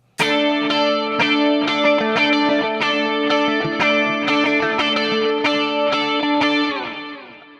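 An electric guitar through a Fractal Axe FX strums repeated chords in an even rhythm, its tone shimmering and thickened by a chorus effect, loud and close.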